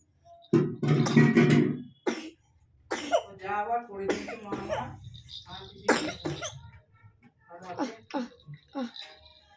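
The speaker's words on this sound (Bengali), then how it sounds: "আমিও তো কাশছি, আমারও খুব কষ্ট হচ্ছে" An adult with a bad cold coughs several times in a home beside a sick baby: a burst of harsh nearby coughs, then throat sounds mixed with talking.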